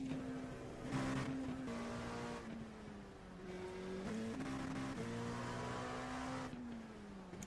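Car engine in a racing video game played on a motion simulator, revving and accelerating hard with rising and shifting engine tones, loud and continuous throughout.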